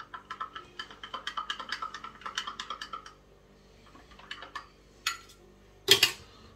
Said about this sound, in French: Je vais le mélanger avec le gingembre.